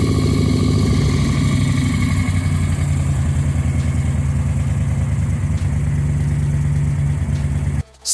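A 1971 Moto Guzzi V7 Sport motorcycle engine runs steadily and loudly at a constant idle-like pace for several seconds, then cuts off abruptly near the end.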